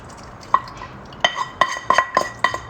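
Coffee poured from one container into another, heard as a series of close clinks and taps of dish or utensil against the container with brief liquid drips between, without talk.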